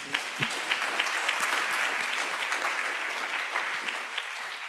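Audience applause at an academic symposium on child and adolescent mental health, a dense, even patter of many hands clapping at moderate loudness for several seconds.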